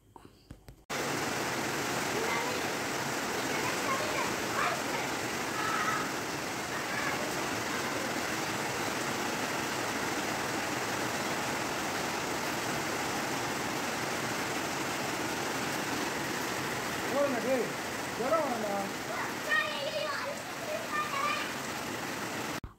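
Steady rain falls outdoors in an even, hissing wash that runs unbroken for over twenty seconds, with a few faint, brief sounds rising near the end.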